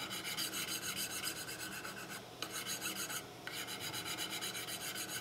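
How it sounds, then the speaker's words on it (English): Hand file cross-filing a brass rifle kit part for a colonial rifle, a steady rhythmic rasp of repeated strokes, close and clear, with a brief pause midway and no talk. "Again, I'm cross-filing as I'm filing."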